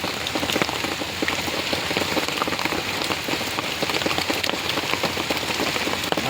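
Steady rain falls and patters on a surface nearby, a dense, even hiss of drops with no let-up.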